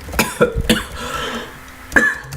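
Several dry coughs up close, a quick pair at first, then another after a short pause, with no talking around them.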